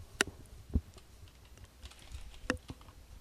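A few scattered computer keyboard keystrokes, sharp isolated clicks spread over a few seconds at close range, typed into an Excel spreadsheet formula, with no talking.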